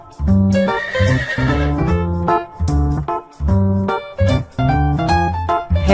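A horse whinnies and neighs in a series of loud, close, quavering calls, one after another, with no other sounds around them.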